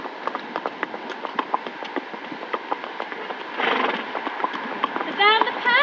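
Horse hooves clip-clop steadily on a path during a horseback tour of Craven College grounds, close and rhythmic, with a brief rustling burst and a horse whinny near the end, while a person talks over it.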